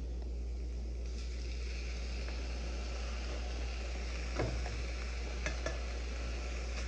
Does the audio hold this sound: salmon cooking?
yes